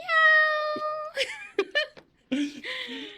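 A person imitates a cat with a long, drawn-out meow, followed by short laughs and giggles.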